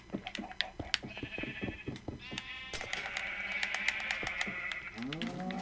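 Minecraft sheep bleat faintly in a couple of drawn-out, wavering cries among soft clicking game sounds, with no one talking.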